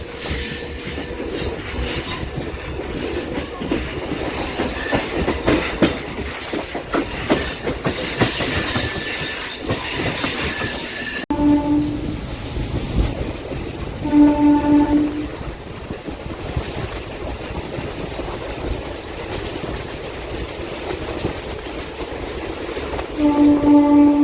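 A MEMU passenger train runs along the line between Nellore and Vijayawada, with loud continuous wheel rumble and clatter, squealing wheels, and repeated short horn blasts in the second half.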